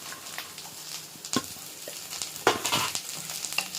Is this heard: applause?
no